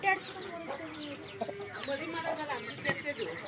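A hen clucks repeatedly in short, close bursts among other chickens, while people talk nearby.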